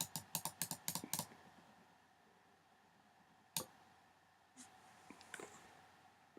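Rapid computer mouse or keyboard clicks during layer and mask editing in image software, a quick burst of about a dozen clicks at the start, then a few isolated clicks later, close and quiet in a silent room.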